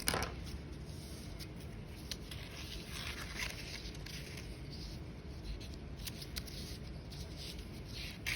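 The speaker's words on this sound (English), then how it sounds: "I'm going to cut my piece of paper to be a little smaller" Scissors snip through a sheet of craft paper during a paper weaving project, producing soft, close, continuous crisp cutting and rustling sounds with no talking.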